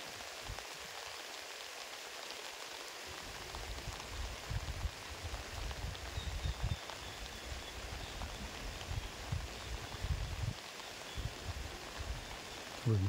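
Heavy rain falls outdoors during fishing in a steady, dense patter with low drumming splashes, close and loud and without a break throughout.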